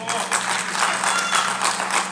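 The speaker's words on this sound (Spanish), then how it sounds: "Un aplauso para Lili, por favor." A live crowd applauds for the female drummer of a Spanish-language rock band at a craft fair, a steady wash of clapping lasting throughout at moderate loudness.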